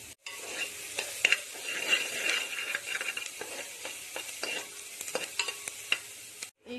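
Onion and fennel frying in hot oil inside a pressure cooker, a steady sizzle broken by scraping stirs and light metallic clinks, close and fairly quiet with no talk.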